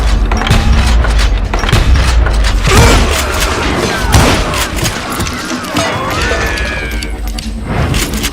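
Western shootout gunfire among rocks in Call of Juarez: Gunslinger, loud booming shots and crashing impacts in a chaotic barrage against attacking outlaws, with a voice briefly heard under the din.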